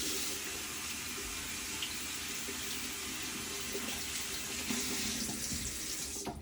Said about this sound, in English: Okay, let me wet my brush.